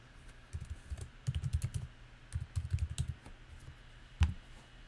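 Typing on a computer keyboard while entering a username for an online telehealth booking, with quick bursts of close, crisp keystrokes separated by short pauses and ending in a single firmer tap.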